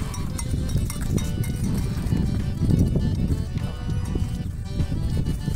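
Several horses' hooves clip-clop on the ground during a cattle-herding outing with cowboys, a dense shuffling beat that runs steadily under busy background noise and occasional voices.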